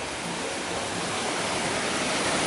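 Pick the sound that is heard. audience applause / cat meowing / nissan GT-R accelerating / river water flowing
river water flowing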